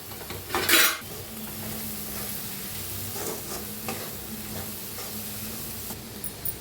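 Roasted moth bean sprouts being stirred with salt in a pan, a spoon scraping and clinking against metal over a faint steady sizzle, with one brighter clatter near the start.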